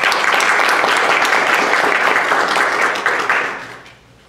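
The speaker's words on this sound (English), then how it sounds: "If you could give them a quick round of applause for their support." An audience at a transit innovations event gives a round of applause for the sponsors, dense and fairly loud clapping from many hands that holds steady and then tapers away to quiet near the end.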